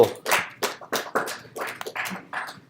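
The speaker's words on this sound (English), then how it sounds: "I wasn't expecting a clap there." Audience applause breaks out after a live coding demo: a short burst of scattered hand claps from a small group, uneven and fading over a few seconds.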